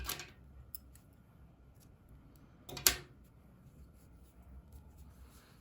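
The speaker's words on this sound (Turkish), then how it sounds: "Zincir yapıyorum, ipliği kesiyorum." Scissors snip through crochet yarn in two quick, sharp cuts, one at the start and one louder, nearer cut midway, against a quiet room.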